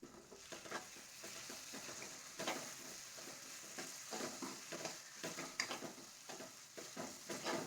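Masala sautéing in oil in a pan for paneer butter masala, a steady close sizzle with repeated scraping stir strokes throughout, no voices.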